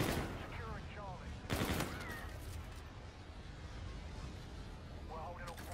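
Gunfire in a Call of Duty multiplayer match on the Mayday map, with one sharp burst of shots standing out over a steady bed of game noise and distant battle ambience, with voices faintly audible in the mix.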